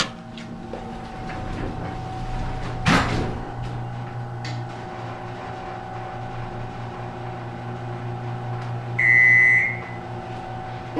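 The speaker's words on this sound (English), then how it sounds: "Listen to this door. This elevator's kinda old," An old Otis hydraulic elevator door rumbles shut with a thud partway through, over a steady mechanical hum, followed later by a short high chime.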